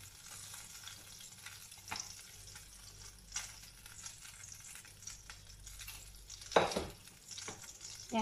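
A burger patty fries in a pan with a steady, close sizzle, punctuated by scraping and stirring clatters, including a sharper metallic scrape near the end, with no talk.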